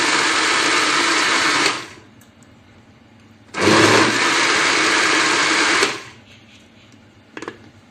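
A mixer grinder whirs loudly as it grinds mango for mango squash, running in two steady bursts of about two and four seconds separated by a quiet pause, with a short clatter near the end.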